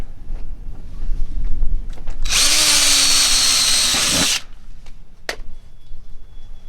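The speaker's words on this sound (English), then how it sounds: "So I will drill my hole." A power drill whirs loudly for about two seconds, boring a hole through wood during a garage door hardware install, then stops; quiet handling noises and clicks surround it.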